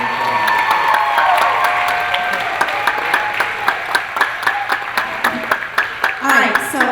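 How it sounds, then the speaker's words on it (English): A school audience applauds for the seniors after a stage play, with steady clapping that turns into sharp scattered claps toward the end while someone speaks over it. "So if we give our seniors one more big round of applause."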